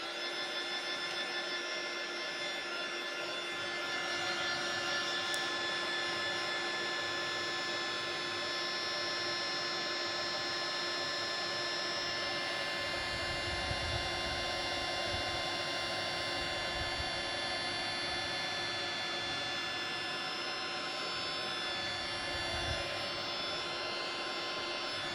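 A heat tool drying paint in an art journal, a steady loud whirring hum that runs unbroken from start to finish, close and alone.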